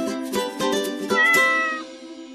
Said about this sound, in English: The first sound that I want to talk to you about today is the meow.